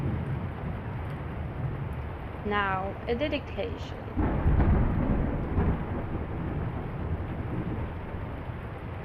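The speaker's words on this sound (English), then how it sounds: "while the rain falls on the cabin" Rain falls on a cabin in The Lion's Song video game, a steady hiss broken by a deep rumble of thunder that swells midway, while a person speaks briefly near the start.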